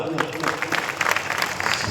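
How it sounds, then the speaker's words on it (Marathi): An audience at a Shiva kirtan devotional gathering claps together in a brief, dense burst of applause that carries at an even level, with a voice faintly mixed in. "त्यांच्यासाठी एकदा टाळी वाजवा"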